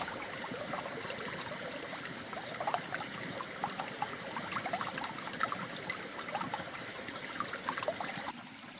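A gentle creek on a Missouri Ozarks farm in spring, swollen after heavy rain, runs as a steady soft trickle and burble, close by and continuous, with no voices.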